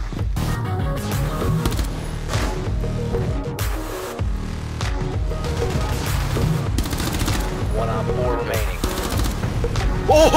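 Gunfire in a tactical shooter video game crackles in repeated bursts and single shots, loud and close, while players talk excitedly over it.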